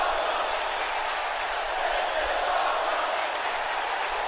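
A virtual arena crowd in the WWE 2K19 wrestling game roars in a steady, dense wash of noise at a Toronto pay-per-view show, unbroken and fairly loud throughout.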